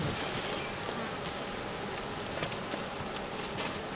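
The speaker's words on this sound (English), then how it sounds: "These are carniolan bees." Carniolan honey bees drone in a dense, steady buzz at an open hive, loud and continuous throughout, with no voices.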